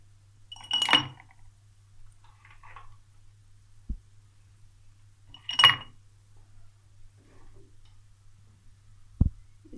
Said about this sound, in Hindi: अब इसमें आइस क्यूब डालेंगे।